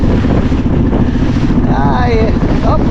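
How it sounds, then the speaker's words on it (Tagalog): Big waves strike a small boat on the open sea. Heavy wind buffets the microphone and water crashes loudly and continuously close by, with a brief voice cutting through partway. "Na naman nag-umpisa yung malaking alon."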